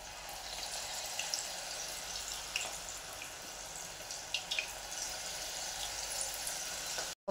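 Sweet corn fritters (bhaji) fry in hot oil over a high flame, a steady, moderately quiet sizzling hiss with occasional small pops and crackles throughout.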